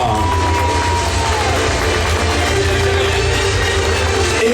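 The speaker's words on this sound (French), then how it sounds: "Et un tonnerre d'applaudissements, mesdames, messieurs, pour Gauthier de Giffard" Crowd at a Hastings 1066 reenactment event cheering and clapping outdoors, a steady loud wash of voices and applause with a low rumble underneath, continuous throughout.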